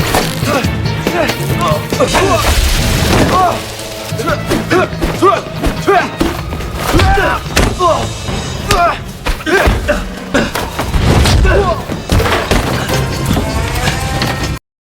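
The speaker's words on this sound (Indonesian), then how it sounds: "Dan kita lihat aksi pertarungan sengit antara Chen dan Fire" Unarmed fight scene from a film: a dense run of loud punches, thuds and whacks with grunts and dramatic music, continuous and close for about fifteen seconds.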